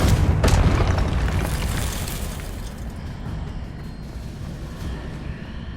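A Confringo fire spell detonates in Hogwarts Legacy, a loud booming blast that hits at once and then lingers as a long rumbling roar fading over several seconds, with no talking.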